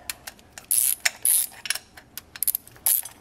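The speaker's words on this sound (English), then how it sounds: "torque her down." Ratchet clicking in short bursts while bolts are torqued down on a BMW E36 M3 water pump, close and fairly loud, with quiet pauses between the strokes.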